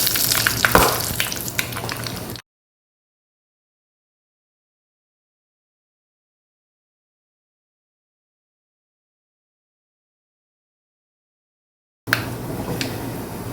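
Fenugreek, mustard seeds and dried red chili frying in hot oil for a Kerala mango pulissery, a busy close sizzle with crackles, cut off by a long silence before the sizzling returns briefly at the end.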